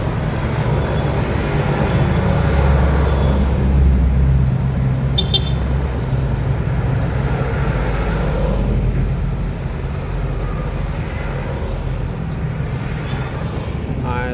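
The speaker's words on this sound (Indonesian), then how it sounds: "Itu truk besar lewat sudah teman-teman. Ini truk LPG kalau nggak salah yang akan lewat ini biru ini." Large blue LPG tanker truck passing on a main road, a loud low engine rumble with traffic noise that swells and then slowly fades.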